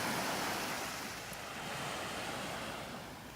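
Ocean surf at Naples Beach washes in softly with a faint, continuous hiss of breaking water and light wind over the microphone.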